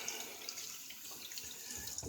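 Water runs steadily from a bathroom tap while someone prepares to wet their face before shaving, a soft continuous splashing stream heard alone at low level.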